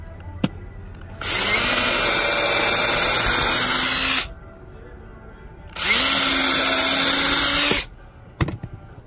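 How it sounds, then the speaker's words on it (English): A power drill pre-drilling holes with a 1/8-inch bit in wood while building a farmhouse table: two loud, steady whirring bursts of about three and two seconds, separated by a quiet pause, with small knocks before and after. "we're gonna use a 1/8-inch drill bit to pre-drill these holes"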